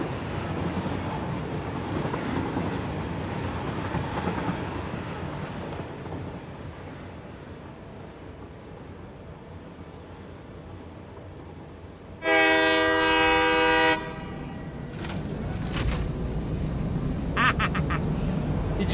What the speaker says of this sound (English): And that train goes over there.